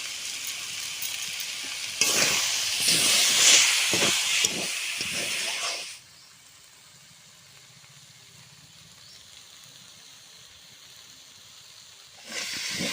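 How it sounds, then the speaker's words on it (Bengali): Mustard greens fry in a pan with a little sugar, a loud steady sizzle and hiss for the first six seconds, then dropping to a faint low simmer before the sizzle swells again at the end, with no voices. "আস্তে আমি শাকটাকে ভেজে নেব"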